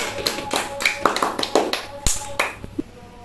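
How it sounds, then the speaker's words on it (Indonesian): A short burst of scattered hand claps from a small group of students in a classroom, uneven and quick, fading out after a few seconds. "Tepuk tangan dulu untuk kelompok 1."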